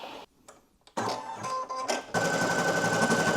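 A sewing and embroidery machine stitches an appliqué tack-down, starting with faint clicks and short bursts, then settling into a fast, steady, rhythmic needle chatter that grows louder.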